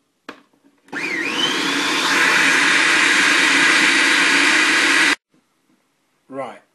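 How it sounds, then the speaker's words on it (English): A blender blitzes a tofu and cashew mozzarella mixture in one loud continuous roar of about four seconds, ending abruptly, with brief talk before and after. "So first off, I should blitz this a few more seconds."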